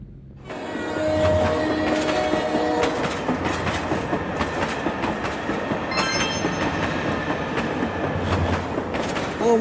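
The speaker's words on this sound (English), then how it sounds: "Oh my god, train!" A train rolls past continuously in the BeamNG driving game, with steady rail clatter and rumble, wheel clicks and a brief high squeal near the middle, loud and close throughout with no voices.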